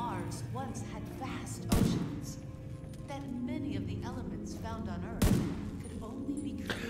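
Two heavy gunshot booms from a weapon in the video game The Division 2, a few seconds apart, punch through steady game background noise, with a voice talking throughout.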